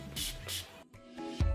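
Urban Decay All Nighter setting spray misted onto a makeup brush: two short, close pump sprays in quick succession, each a soft airy hiss, with quieter handling noise afterward.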